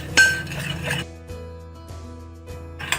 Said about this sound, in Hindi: इसको आप अच्छी तरीके से मिक्स कर लें।